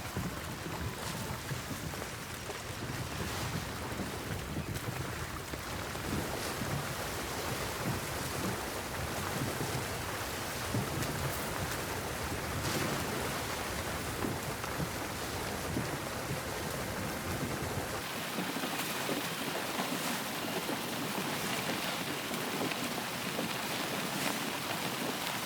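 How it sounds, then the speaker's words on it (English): A small boat sails across open sea in Valheim, with a steady rush of wind and lapping waves running continuously throughout, the low end thinning out near the end. "sailing from point A to point B in these little boats does take a bit of time"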